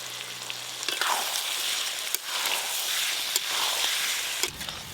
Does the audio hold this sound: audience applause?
no